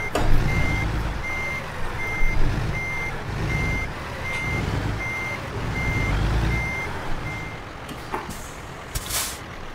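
Reversing beeps from a truck backing up a trailer in the game American Truck Simulator, a steady series of evenly spaced beeps over a low engine rumble, with a brief hiss near the end.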